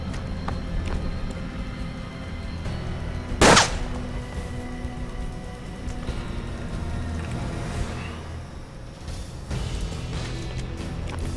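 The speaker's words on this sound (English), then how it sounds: "Shotgun!" Shotgun fire in the video game Hard West: one sharp, loud blast rings out over a steady game soundtrack and ambience, followed by softer fainter thumps later on.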